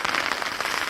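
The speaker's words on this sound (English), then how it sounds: "because now it's pouring rain" Pouring autumn rain at a Northern Ontario crown land campsite by a canoe route, a dense, steady hiss of drops on surfaces with no break.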